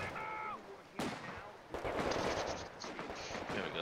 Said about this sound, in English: fucking grenades all the time with these bastards